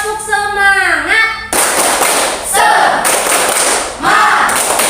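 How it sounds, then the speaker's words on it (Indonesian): A classroom group of teachers and students bursts into a rhythmic spirit clap after a call from the teacher, with loud broadband clapping arriving in several separate bursts over a few seconds. "1, 2, 3, tepuk semangat."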